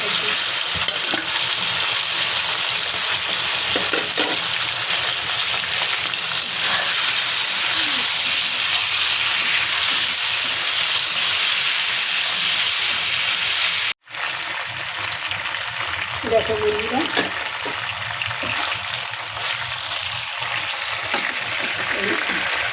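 Chicken pieces rubbed with turmeric and salt frying in a pan, a loud continuous sizzle and hiss with occasional stirring scrapes, briefly cut off midway before resuming.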